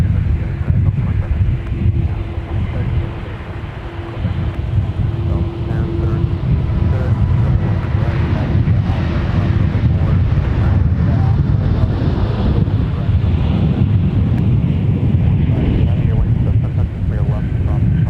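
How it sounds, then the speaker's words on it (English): Strong wind buffets the microphone at MSP airport, a constant rumbling roar with gusts, joined by a faint steady tone partway through and occasional voices underneath. "I'll tell you what, John, I'm really fighting the wind up here."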